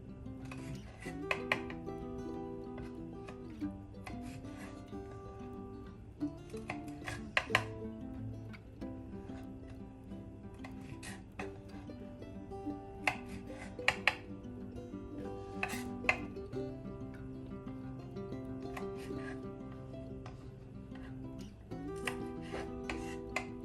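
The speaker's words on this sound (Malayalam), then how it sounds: "ഈ പയർ നമുക്ക് ചെറുതായി അരിഞ്ഞെടുക്കാം." A knife finely chops young snow peas on a cutting board in a home kitchen, giving soft, quick taps in irregular bursts over faint background music.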